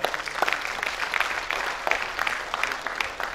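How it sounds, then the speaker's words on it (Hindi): An audience applauds to honour guests at a comedy poetry gathering, a continuous patter of many hands with scattered sharper claps, fairly soft and distant, with no talk. "अब इनके सम्मान में मैं चाहूंगा आप पहले जोरदार तालियां हो जाए"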